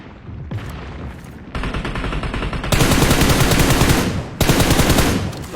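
Loud, close video game gunfire: dense automatic bursts that rattle continuously, growing heavier and more intense partway through with barely a pause.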